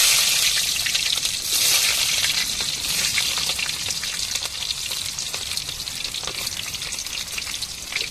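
Small onions frying in hot oil as the tempering for an egg curry, a continuous crackling sizzle with scattered pops and stirring, fairly close and steady throughout.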